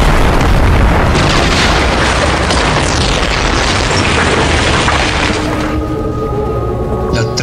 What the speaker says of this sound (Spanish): Tremenda cadena de explosiones lo lanzó por los aires.